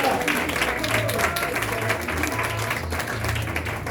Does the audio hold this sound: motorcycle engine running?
no